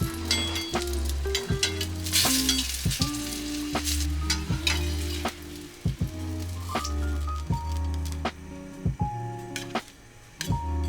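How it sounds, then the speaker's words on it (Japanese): Fish fillet pressed down and pan-frying in oil hisses with a steady sizzle, punctuated by crackles, pops and tapping of a utensil against the pan, close and moderately loud, with no voices. "しっかり押さえてあげて焼いていきます。"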